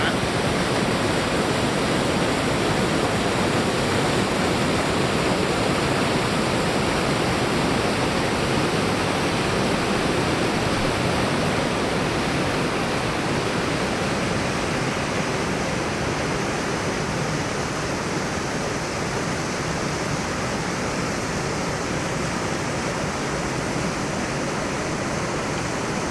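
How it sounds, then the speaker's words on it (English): High Falls on the Pigeon River pours in a dense, continuous roar of rushing water, loud and steady, with no voices over it. "this is the High Falls"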